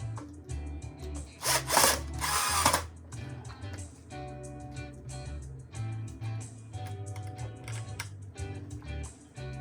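A power drill drives screws into a wooden Telecaster-style guitar kit body, with short whirring bursts and a louder grinding stretch near two seconds, then quieter rubbing and handling sounds.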